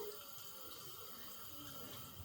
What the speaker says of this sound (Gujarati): તેમાં પાણી નાખ દે